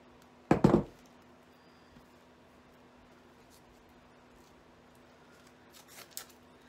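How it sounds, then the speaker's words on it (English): Floral wire for a bridal cascading bouquet being trimmed: one sharp, close snip near the start, then a quiet room hum and faint small rustles near the end. "Trim that wire here."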